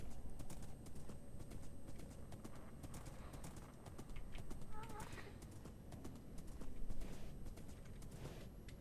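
Horse hooves in the Minecraft video game clip-clop in quick, irregular steps throughout, fairly faint, with scattered clicking of a keyboard alongside.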